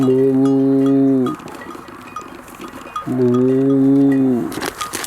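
Two long, loud, tonal moos, each lasting over a second with a pause between, close by and clear; it is unclear whether they come from a cow or from a voice imitating one.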